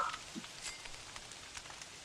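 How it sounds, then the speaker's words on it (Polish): Faint rain patters steadily on a surface in the video game Don't Starve: Reign of Giants, soft scattered drops with a few brief clicks and a short chirp-like tone at the start. "Znowu w deszczu."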